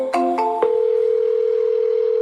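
An inbound phone call to an AI call system rings as a few quick tonal chirps, followed by a steady, loud electronic ringing tone that holds unbroken to the end.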